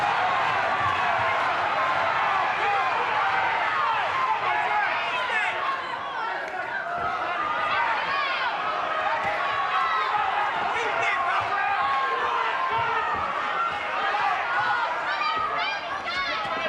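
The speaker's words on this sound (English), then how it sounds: "And just listen to the crowd." A continuous roar from a boxing crowd during an IBO 140lb title fight between Colin Lynes and Juaquin Gallardo fills the arena with sustained cheering and chatter, with a commentator talking over it throughout.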